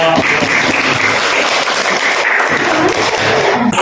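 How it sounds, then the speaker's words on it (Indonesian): Classroom applause for a group of students after their presentation, a dense, steady wash of clapping that fills the room without a break, with a few voices mixed in. "Kita berikan aplaus untuk kelompok"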